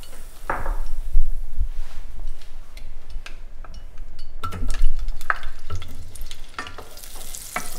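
Butter and oil heating in a pan on low heat for tempering masoor dal, with a soft crackling sizzle, scattered ticks and occasional clinks of a utensil against the pan.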